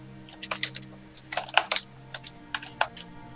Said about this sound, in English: Garris, the keyboard is clicking very loud